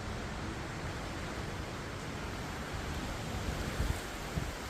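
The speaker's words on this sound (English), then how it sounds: "Definitely blowing with the wind." Strong, steady wind roars through backyard trees during a tornado storm as a dense, constant wash of noise, loud and close, with a few heavier gusts toward the end and no voices.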